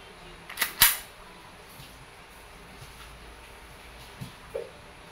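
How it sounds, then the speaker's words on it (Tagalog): An Umarex Glock 17 Gen 5 pellet airgun fired indoors, two quick sharp snapping cracks close together near the start, then a couple of faint small knocks against a quiet background. "Sir Dennis, testing, sir, ng inyong Glock 17 Gen 5 airgun pellet version"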